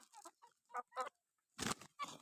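Village chickens cluck in short bursts as they are gathered in one spot for feed, a handful of distinct close calls separated by brief pauses.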